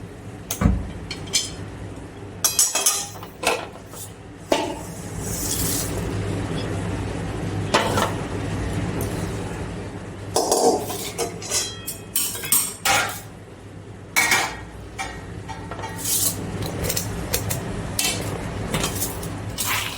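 Oats being stirred into a homemade protein powder mix with roasted chickpeas in a metal pan, giving irregular clinks and scrapes of a spoon against the pan over a low background hum.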